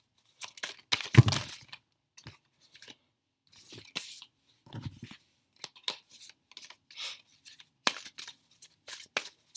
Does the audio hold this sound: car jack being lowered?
no